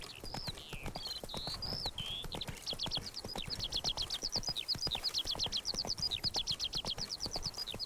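A horse gallops in The Witcher 3: Blood and Wine, with a steady run of rhythmic clip-clop hoofbeats close by and bright chirping birdsong above them. No voices.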